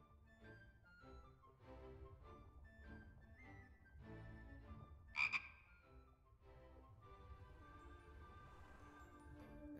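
Frog croaking in The Book of Unwritten Tales 2, a few loud close croaks in the middle over quiet game music.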